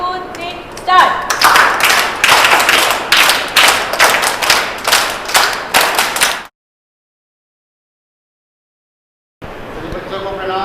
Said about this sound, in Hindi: तो एक बार जोरदार तालियों से फूफा जी को बुलाएंगे